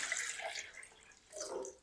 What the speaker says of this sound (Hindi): और अब हम इसमें शामिल कर देंगे पानी।